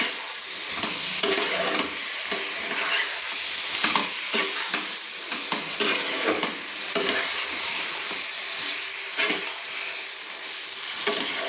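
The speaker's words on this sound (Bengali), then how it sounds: "আমি যে পটল ভেজে রেখেছিলাম সেগুলো দিয়ে দিলাম, দিয়ে ভালো করে নেড়ে নিচ্ছি" Fried pointed gourd and potatoes being stirred in a pan for a prawn and pointed gourd curry, with a steady sizzle and frequent scraping, clattering strokes of the spoon, close and continuous throughout.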